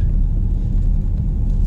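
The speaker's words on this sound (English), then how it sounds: "Let's have a drive in around the car park just to show you, shall we?" A car rolls slowly into a car park in Marbella, a steady low engine and road rumble from inside the vehicle, close and even throughout with no talk.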